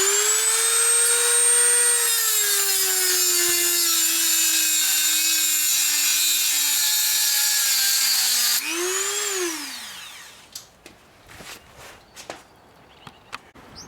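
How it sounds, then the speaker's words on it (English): A Dremel rotary tool scores the axle nut on a second-generation Toyota Prius during wheel bearing removal, giving a loud, steady high-pitched whine for about eight seconds that winds down in pitch, followed by a few faint taps. "We're going to first score this with a Dremel, the axle nut"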